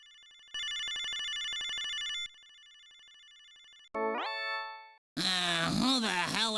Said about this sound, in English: Wait, the phone's ringing.